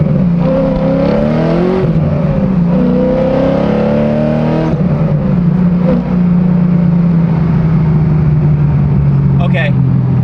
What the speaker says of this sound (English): this car is really fun to drive because it's fast and it sounds fast